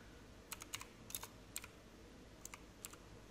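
Quiet typing on a computer keyboard while making a YouTube thumbnail, with about ten light, irregular key clicks in small clusters over a soft room hiss, no voices.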